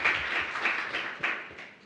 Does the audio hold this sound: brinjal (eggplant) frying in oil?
no